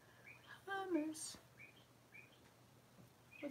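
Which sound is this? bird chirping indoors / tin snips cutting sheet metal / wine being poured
bird chirping indoors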